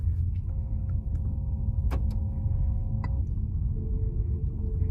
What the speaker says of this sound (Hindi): ये सोर्स 3 आ गया, अब गाड़ी चल रही है और ये थ्रू स्पीकर्स आपको आवाज आ रही है इसकी।